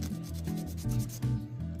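Steady scratchy rubbing of sandpaper against a SIM card, with repeated back-and-forth strokes, close up and with no voices.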